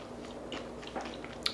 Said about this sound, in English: You guys hear that crunch?